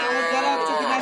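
A Sahiwal bull calf at a cattle market gives a sustained, loud moo heard close by, lasting about a second with no other sounds standing out.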